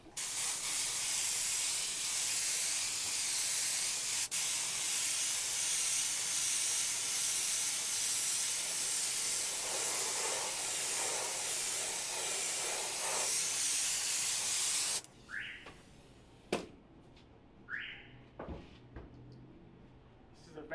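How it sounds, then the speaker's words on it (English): A spray gun sprays glue onto carpet for a seamless carpet wrap, giving a steady, loud hiss for about fifteen seconds. It then cuts off, leaving quiet handling noises and a few short clicks. "I'm gonna glue, spray glue on this and spray glue on this"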